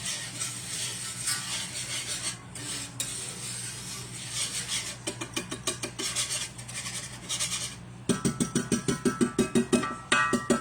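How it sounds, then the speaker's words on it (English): A whisk beats cake batter in a bowl for pineapple upside-down cake, with a steady scraping swish that turns into fast, even rhythmic strokes near the end, close and clear. "let's try to just whisk this a little bit"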